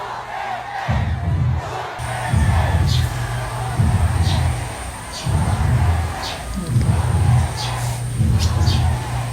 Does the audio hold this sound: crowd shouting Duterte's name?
yes